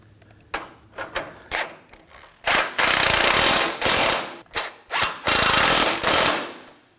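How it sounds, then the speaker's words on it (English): A 19mm wrench and 21mm socket tighten the oil pan nuts on a 2017-2024 Nissan Armada, heard as a string of short close ratcheting and scraping bursts, then several longer loud stretches of metallic grinding. "We're gonna use a 19mm wrench on one side to hold the nut, and the 21mm socket on the other just to tighten it up."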